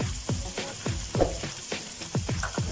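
Alexandrian-style liver sizzles in a pan while being stirred, a close frying hiss broken by a quick series of rhythmic utensil scrapes.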